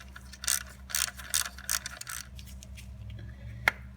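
Wrench ratcheting on a 10mm nut beneath a rubber boot on a Ford Mustang, with several bursts of quick clicking close by, then quieter handling and one sharp tick near the end; no talk.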